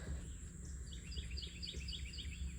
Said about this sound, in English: I'm hoping that you're able to hear the birds talking right now.